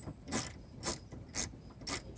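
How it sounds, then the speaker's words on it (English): A ratchet wrench loosening the 10mm bolts atop the headlight assembly of a 2005 Mazda 6i Sport, giving four short, evenly spaced bursts of clicking at close range with no talk. "Loosening the 10mm bolts on the top of the headlight assembly."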